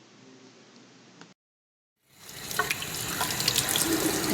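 Tap water running into a kitchen sink during hand rinsing in a cooking class, a steady rushing stream that starts after a short silence and continues loud and close to the end.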